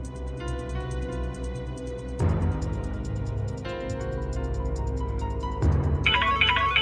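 A repeating electronic phone ringtone melody plays steadily with a looping tune, loud and close, no voices.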